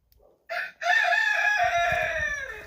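A rooster crows loudly and close inside a chicken coop during winter chores, a long drawn-out call after a brief clipped start, with softer clucking from the flock of hens beneath it.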